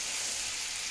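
Chicken frying in a pan gives a steady, quiet sizzle: a continuous bright hiss with faint crackle, heard alone with no talking.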